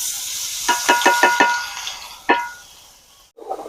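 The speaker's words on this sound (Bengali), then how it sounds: "পটল তো ভেজে তুলে নিয়েছি, আর এবার চালটা ভেজে নেব।" Raw rice is fried in deep oil in a pan, with soft sizzling, a quick run of metal utensil taps against the pan, and a later single knock.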